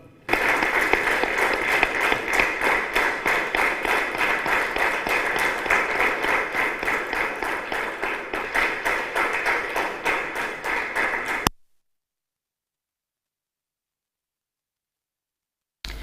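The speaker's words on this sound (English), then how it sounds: "join me in giving a big round of applause to His Excellency and Uganda" Sustained audience applause for His Excellency, the President of Uganda, at a ceremonial event with a National Defence College delegation from Bangladesh: dense, steady crowd clapping for about eleven seconds, then it cuts off into silence.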